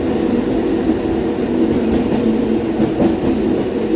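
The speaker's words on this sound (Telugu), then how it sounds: "హడప్సర్ నుంచి కాజీపేట వెళ్ళే ఎక్స్ప్రెస్ ట్రైన్ అది" An express train from Hadapsar to Kazipet rolls past at a crossing, a loud, steady rumble with rhythmic clickety-clack of wheels over rail joints.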